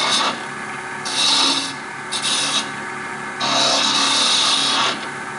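A wood lathe spins a wooden duck while a tool cuts a small cove, giving three separate rasping, scraping bursts over a low hum, close and fairly loud, with no voices.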